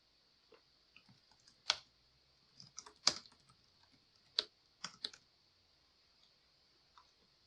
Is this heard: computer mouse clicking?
yes